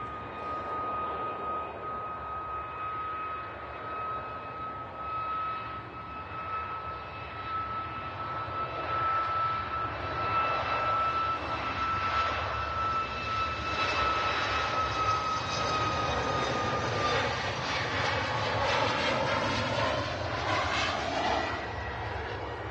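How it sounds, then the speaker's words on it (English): An Etihad Boeing 787-10 Dreamliner taxiing out at Manchester Airport, its jet engines giving a steady whine and rumble that swells gradually as it passes, heard from a distance without speech. "that Etihad 787-10 Dreamliner is on the taxi out."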